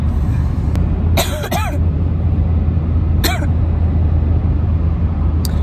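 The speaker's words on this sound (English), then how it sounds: "I keep coughing up a lung." A person coughs in short, sharp bursts, with two quick coughs close together and another a couple of seconds later, loud and close over a steady low background rumble.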